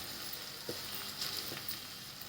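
Yellow masala spice dropped into a spoonful of hot oil while cooking lasuni masala bhindi, giving a soft, faint, steady sizzle with a couple of light stirring clicks.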